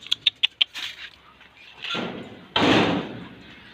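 A few sharp knocks, then a door scraping and banging shut nearby, with a louder rattling slide at the end.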